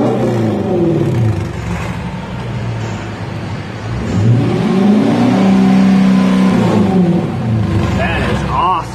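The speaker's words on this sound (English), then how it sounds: "Okay, we got the Corsa exhaust in." A 2017 Jeep Grand Cherokee Trailhawk with a Corsa catback exhaust revs up and down repeatedly, a loud, close, deep engine roar rising and falling in pitch, with people speaking over it.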